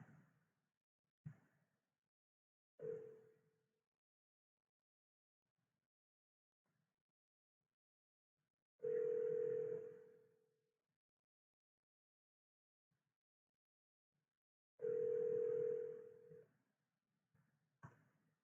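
An outgoing phone call ringing on the line before reaching voicemail: a few faint clicks, then two long ring tones about six seconds apart, each lasting over a second, with near silence between.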